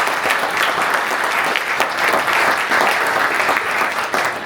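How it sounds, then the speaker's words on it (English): An audience at a talk on police, protest and authoritarianism gives Paul Herrick a sustained round of applause, dense and steady clapping filling the room from start to finish. "big round of applause for Paul Herrick"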